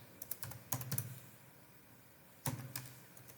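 Keystrokes on a computer keyboard while entering a search in a web browser: two quick bursts of clicky taps, near and fairly soft, separated by a quiet pause, with no voices.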